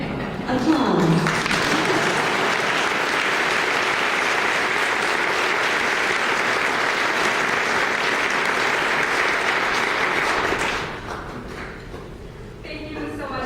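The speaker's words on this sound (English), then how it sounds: "Applause." Sustained applause from a lunch-event audience after a child's thank-you, steady and full for about ten seconds, then fading with a few scattered claps and murmurs at the end.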